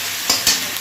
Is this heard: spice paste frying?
yes